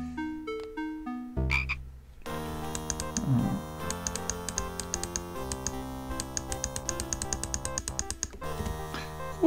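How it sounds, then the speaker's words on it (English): Frog croaking in the Discworld adventure game, a run of repeated croaks set over busy tonal game music, fairly loud and steady, with no talk. "Oh, Froggy's back"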